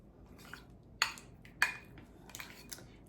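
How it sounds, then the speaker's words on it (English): Maple syrup being stirred into mascarpone cheese in a bowl, heard as a few sharp metallic clinks of a spoon against the bowl between softer scraping, quiet and close, with no voices. "So I'm just gonna stir this in."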